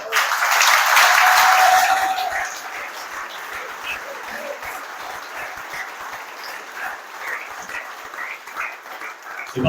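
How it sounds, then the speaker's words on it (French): Campaign activists receive applause from a French political rally audience, a loud swell with a whistle at first that fades after about two seconds into scattered, softer clapping and crowd noise. "je pense que vous pouvez aussi les applaudir"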